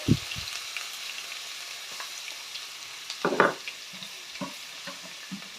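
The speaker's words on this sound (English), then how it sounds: "Fry it for about 2 minutes" Grated ginger and garlic fry in a pan for jollof rice. A steady, gentle sizzle runs throughout, broken by a few close scraping and stirring knocks near the start and in the middle.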